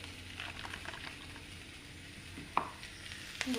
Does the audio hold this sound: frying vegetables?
yes